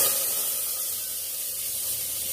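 Lentils tipped into hot oil with dried red chillies and five-spice in a home kitchen, giving a steady, loud hiss of sizzling that fades slightly over a couple of seconds.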